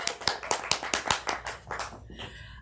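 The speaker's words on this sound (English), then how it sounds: "I think a round of applause." A small audience claps for a couple of seconds, loose overlapping claps close by that thin out and fade near the end.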